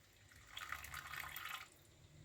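Hot water is poured into a Moroccan tagine, a short, faint splashing trickle of about one second against a quiet background.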